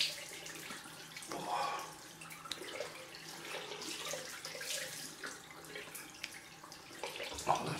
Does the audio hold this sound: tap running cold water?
yes